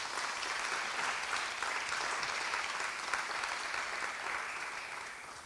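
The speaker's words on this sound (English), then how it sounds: "So big round of applause to every Black woman and every Black entrepreneur as well" Steady applause fills a room at a Black Impact awards ceremony, a dense, continuous patter of many hands that carries on throughout and tapers slightly at the end.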